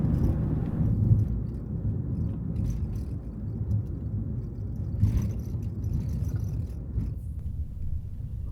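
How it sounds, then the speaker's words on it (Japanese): Steady tire roar and low rumble from a used camper van cruising a quiet highway at night, continuous and fairly loud with faint rattles, no talk. "タイヤの音だけが響き渡ります。"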